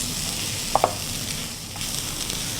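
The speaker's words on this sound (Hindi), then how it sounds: "तमाम चीज़ों को आलूओं के साथ आपने अच्छा सा मिक्स कर देना है" Chopped ingredients being stirred and mixed with potatoes for chicken chilli pakora, a continuous wet sizzling rustle with two brief clicks, no talk.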